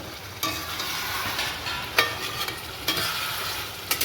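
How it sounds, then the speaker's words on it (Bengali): Spice masala with tomato and fried potatoes sautéing in a pan for a cauliflower chicken curry: a continuous sizzle broken by several sharp stirring scrapes and clatters, without speech. "এই মশলার মধ্যে মশলা কষাতে কষাতে আমি এর মধ্যে ভাজা আলুটাও দিয়ে দিচ্ছি"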